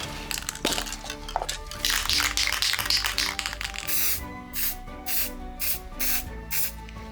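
Repeated short bursts of aerosol spray paint on a 3D-printed matchbox, hissing in quick puffs with faint rattling and scraping between them, close by.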